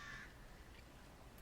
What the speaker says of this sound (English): She's talking to crows.